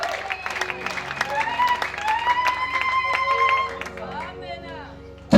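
A church congregation claps and ululates in praise during a sermon: high, wavering trills ride over a busy stream of hand claps and crowd noise, fading out near the end before a sudden loud burst.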